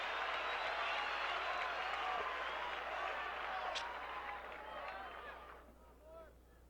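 A tennis crowd at the 1979 Pepsi Grand Slam final between Jimmy Connors and Bjorn Borg applauds loudly with mixed voices, the clapping holding strong before fading away near the end.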